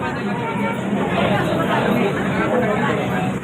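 Crowd of devotees queueing for darshan at the Ambabai temple, a dense, continuous babble of many voices close around, steady and loud without pause.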